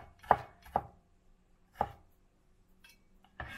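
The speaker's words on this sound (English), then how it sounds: "So we chop the ginger into pieces." A knife chops slices of ginger into pieces on a board while preparing Asian-style steamed sea bass, giving a few crisp, separate chops with short pauses between them, close and alone.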